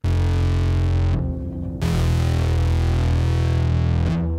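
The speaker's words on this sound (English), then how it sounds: "a harp through a distortion pedal?" A harp played through a distortion pedal gives heavily distorted, sustained string tones that ring out loud and buzzy, cut off briefly by a short gap before the fuzzy chord swells again.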